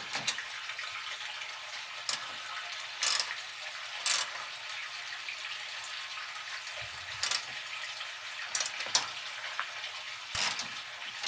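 Ratchet tightening the bolts of a Tanabe strut bar on a Toyota Yaris, heard as scattered short clicking bursts spread across the span over a steady background hiss, close and fairly quiet, with no voices.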